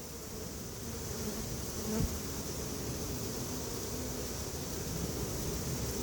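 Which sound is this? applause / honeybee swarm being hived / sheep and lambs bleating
honeybee swarm being hived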